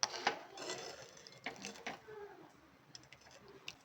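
Kala chana gravy being stirred in a pan: quiet metallic scrapes and light clinks of a spoon against the pan come in irregular bursts, close and soft, with no talking.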